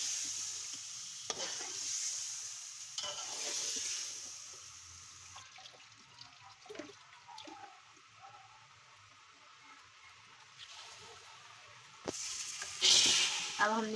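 Chicken masala for a Hyderabadi kachi dum biryani frying in a pan, a soft hissing sizzle with occasional scrapes of stirring, quieter in the middle and louder toward the end, with a voice speaking at times.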